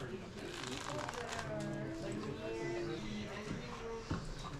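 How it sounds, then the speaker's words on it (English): A quick papery riffle shuffle of playing cards, fairly faint, set against a busy game store with overlapping chatter and background noise. "Did I just hear someone riffle shuffle?"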